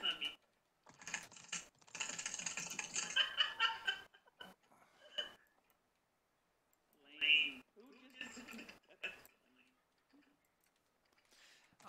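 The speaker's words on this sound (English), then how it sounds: "Keyboard ASMR. Yeah, somebody was getting into it big time." Keyboard typing ASMR: bursts of fast clicking keystrokes, close and fairly loud, come in clusters separated by pauses, while people talk over the clatter.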